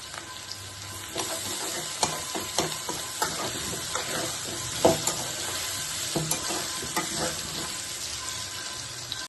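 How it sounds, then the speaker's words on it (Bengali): Grated ginger sizzles in hot oil beside potatoes in a pan for a vegetarian curry of potato, pointed gourd and soya chunks, a steady close frying hiss broken by scattered clicks and scraping stirs, with no talk. "আদাটা আমার ভাজা হয়ে গেছে"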